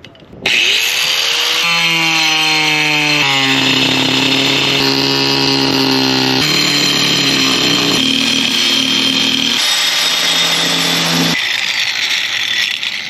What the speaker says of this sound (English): I'm going to finish cutting through there with my regular cutoff.